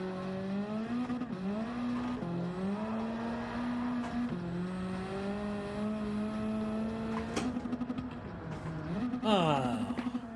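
Simulated car engine in the Need for Speed video game revs up and drops repeatedly through downshifts, rising and falling in pitch over about ten seconds, loud and close, ending with a sharp high rev.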